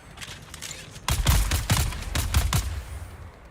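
Two machine guns in a video game fire together in rapid, overlapping bursts. Quieter shots come first, then loud close rattling volleys of roughly six heavy reports before trailing off.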